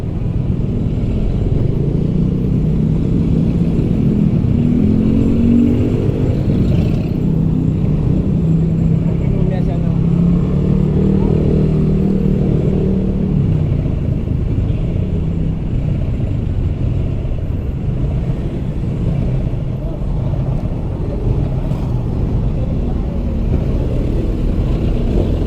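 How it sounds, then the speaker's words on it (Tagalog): Road traffic surrounds a motorcycle ride: a continuous low engine and tire rumble with passing vehicles. Someone talks in Tagalog throughout. "Kaya pala medyo traffic dito"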